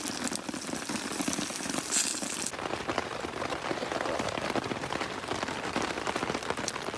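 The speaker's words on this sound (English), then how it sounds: "it's raining," Rain patters on a camping tent at night, a steady dense hiss of drops with crackly impacts, evenly loud and continuous with no voices.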